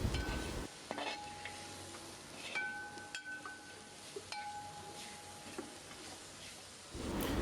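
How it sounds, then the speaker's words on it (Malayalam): Coriander powder sautéing in a pan for pork roast, a faint sizzle with spaced spoon scrapes and metallic clinks against the pan, close and quiet. "മല്ലിപ്പൊടി ചേർത്ത് കൊടുത്ത് ഒരു 2 മിനിറ്റ് നല്ലപോലെ ഇട്ടൊന്ന് വഴറ്റുക"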